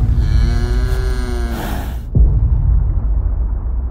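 Cow mooing in an AI-generated scene, one long loud close moo with a steady droning pitch, then a sudden deep rumbling burst like an explosion that carries on as a low roar.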